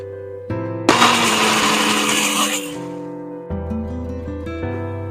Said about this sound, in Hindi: तो चलिए अब इसे ग्राइंड कर लेते हैं हम।